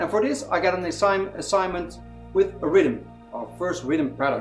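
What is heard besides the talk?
No everyday noises stand out.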